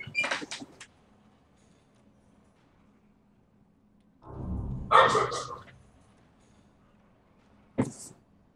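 Guard dogs in the Prison Architect prison-management game bark in a few short bursts separated by long quiet gaps, moderately loud with no talk over them.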